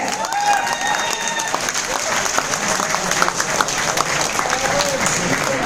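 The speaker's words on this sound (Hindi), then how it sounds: "अबे तालियां हो जाए जोरदार" A crowd at a meeting in Ahmedabad, Gujarat applauds steadily for several seconds, a dense wash of clapping with a few whistles or shouts mixed in.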